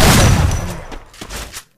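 An M240 machine gun firing in the Free Fire video game, heard as a loud dense burst of gunfire that fades out, followed by a few weaker shots before the sound cuts off.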